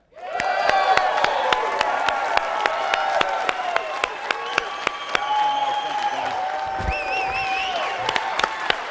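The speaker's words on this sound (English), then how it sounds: "So please put your hands together and welcome from Chicago, Illinois, independent student advisor, Mr. Andrew Urasek." A presentation audience breaks into loud, sustained applause to welcome a speaker, with steady clapping carrying a few cheers and whoops throughout.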